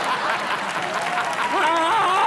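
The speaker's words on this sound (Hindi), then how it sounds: "तुम लोग क्या ताली बजाते हो?" Studio audience clapping on a comedy show, dense steady applause with voices and cheers rising over it in the final second.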